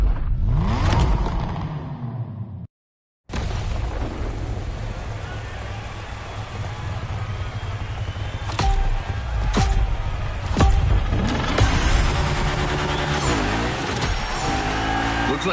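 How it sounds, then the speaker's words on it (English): Cars burning rubber in the racing video game The Crew Motorfest, a steady loud roar of engines and tire noise after a brief cut, with sharp bursts and sweeping revs building toward the end. "Lots of drivers out to burn rubber."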